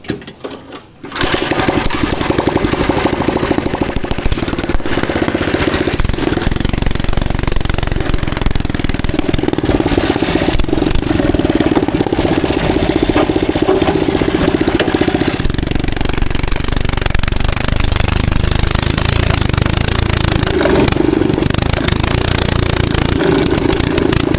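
A minibike engine running after a swap to a smaller carburetor jet, revving loud and steady close by for over twenty seconds with no talking.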